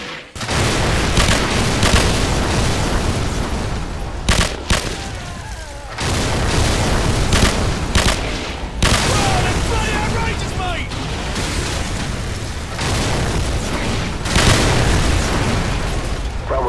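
Danger-close artillery strikes pound enemy armor and infantry in Call of Duty 4, a continuous barrage of heavy booms and rumbling blasts with brief gaps, while radio voices talk over the bombardment.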